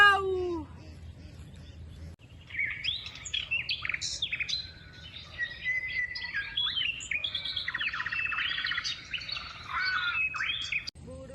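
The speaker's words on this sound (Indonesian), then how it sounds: "Burung-burung itu benar-benar nekat" Many small birds chirp and tweet in a busy, overlapping chorus that runs steadily for most of the stretch, fairly close and bright, with a brief low voice at the very start and no speech after it.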